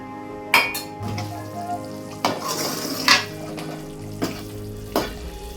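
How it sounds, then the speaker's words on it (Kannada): Red fish curry sambar bubbles in a pot, a steady simmering hiss punctuated by clinks and scrapes of a spoon against metal, close and moderately loud with no talk. "ಈಗ ಸಾಂಬಾರ್ ಎಲ್ಲ ನೀಟಾಗಿ ಚೆನ್ನಾಗಿ ಕುದಿ ಬಂದಿದೆ"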